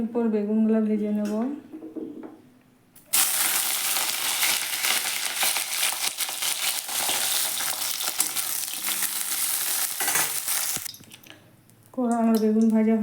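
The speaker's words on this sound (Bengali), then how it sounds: "এরপর বেগুনগুলো ভেজে নেব।" Eggplant pieces frying in mustard oil in a kadai for a Bengali shukto, a loud, steady, close sizzle lasting about eight seconds, with a voice talking briefly before and after.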